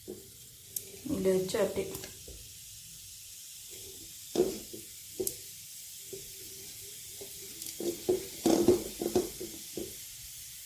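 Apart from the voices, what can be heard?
roasted gram (pottukadalai) frying in oil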